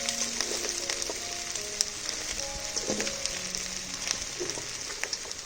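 Genjer (yellow burrhead) greens stir-frying in a pan with garlic, a steady close sizzle with scattered crackles and light stirring clatter throughout, no voices.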